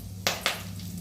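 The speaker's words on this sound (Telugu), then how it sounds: "పచ్చిమిర్చి, ఉల్లిపాయలు చిన్నగా కట్ చేసుకొని వేసుకోవాలి." Green chillies and chopped onions drop into hot oil with curry leaves in a pot, giving two quick, close sizzling bursts that then settle into a low, steady fry.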